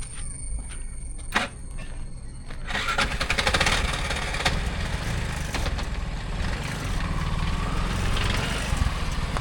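A Bajaj Z CNG auto rickshaw engine cranks to life after a few clicks and settles into a steady, close, chugging idle that runs on unbroken.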